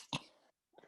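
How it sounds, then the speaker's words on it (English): One quick, sharp sneeze bursts out near and loud, followed by a short breathy trail and a faint rustle after a brief silence. "sorry, I guess sneeze coming"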